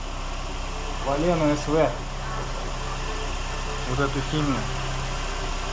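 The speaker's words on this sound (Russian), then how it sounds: "Сейчас моторчик чуть-чуть нагреется и залью" A 2005 Toyota Succeed with its 1NZ-FE engine idles while warming up, a steady low hum running throughout as someone talks over it nearby.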